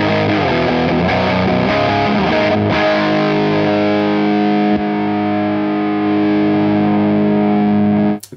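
Electric guitar played through a Walrus Audio Iron Horse V2 distortion pedal, a loud, saturated sustained chord ringing out for several seconds before cutting off abruptly, with no talking.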